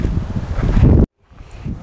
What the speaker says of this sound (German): Ja, es ist sehr windig.